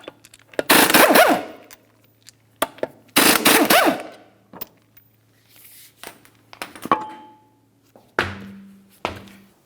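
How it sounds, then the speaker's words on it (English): Six 19mm lug nuts are spun off a 2002-2009 Chevrolet Trailblazer 4.2L wheel in two loud, close bursts of rapid rattling hammering, each about a second long, followed by scattered clunks and thuds and a short hum near the end, with no talking. "Remove your 6 19mm lug nuts and then the wheel."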